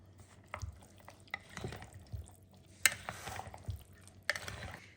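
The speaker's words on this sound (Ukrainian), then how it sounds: "Пересипаємо і знову перемішуємо." Casserole mixture is stirred after drained green peas are added, giving soft scraping and clinking of spoon against bowl with scattered sharp taps, close and fairly quiet, with no talking.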